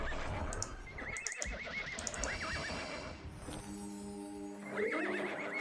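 In the 1997 online game Ultima Online, a horse whinnies and neighs several times over soft hoofbeats and busy game ambience, with no talk.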